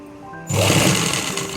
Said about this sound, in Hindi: उसके बाद सीधा सिलाई लगाते रहिए आप, हल्का सा खींचते हुए इलास्टिक को